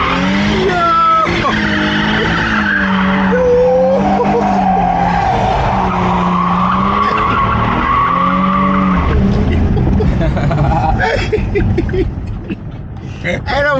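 Infiniti Q50 spinning its tires: a loud, sustained squeal with a wavering pitch over a roaring engine for about nine seconds, then breaking up into rougher tire and engine noise.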